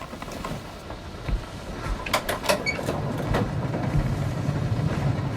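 A steam train rumbles and clatters steadily on its rails, with a few sharp metallic knocks and hisses midway, a continuous loud mechanical running sound with no voices.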